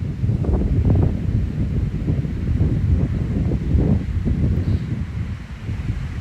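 Wind blows outdoors on a summer day, buffeting the microphone with a steady, loud low rumble that surges and eases throughout.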